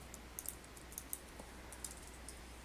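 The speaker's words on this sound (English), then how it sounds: "Now that I'm in the terminal, I'm going to type the command OpenSSL" Quiet, close typing on a computer keyboard as a terminal command is entered, a sparse series of light key clicks with short pauses, no voices.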